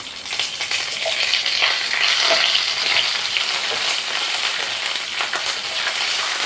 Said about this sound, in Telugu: ఇప్పుడు కాస్త కరివేపాకు రెమ్మలు వేస్తాం.